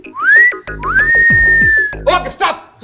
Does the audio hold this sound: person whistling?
yes